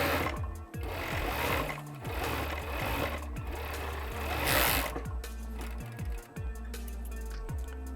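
A serger sewing machine runs in steady, loud bursts while stitching a fabric gift bag, its motor whirring continuously with brief pauses and restarts near the end, with no voices.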